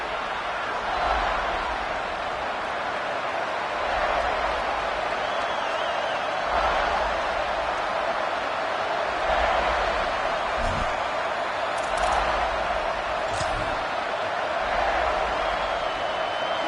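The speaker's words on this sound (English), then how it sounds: "This crowd ready to make its presence known" A college football stadium crowd at a South Carolina Gamecocks game roars steadily at kickoff, a loud, sustained wash of cheering that swells in waves beneath an announcer's talk.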